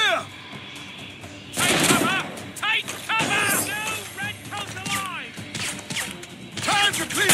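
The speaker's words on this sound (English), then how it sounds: "Captain, men! Fire! Fire! They're shooting back!" Soldiers' muskets and rifles fire in Assassin's Creed Rogue, with sharp cracks and volleys bursting close and loud in rapid, uneven succession, mixed with shouting voices.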